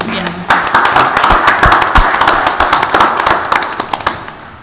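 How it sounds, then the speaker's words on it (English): A county board of commissioners meeting audience breaks into brisk applause, a dense burst of sharp claps that starts abruptly and carries on steadily, close and loud. "Give him a round of applause."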